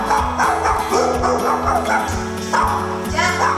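Agitated dogs guarding a schoolroom in Colombia, barking, yipping and whimpering in repeated close bursts, with other sounds going on around them.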